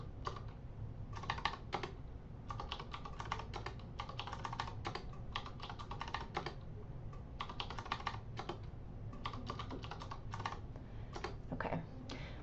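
Fingers type on a computer keyboard in quick, uneven bursts of soft clicking keystrokes with short pauses between, close and fairly quiet, with no voices.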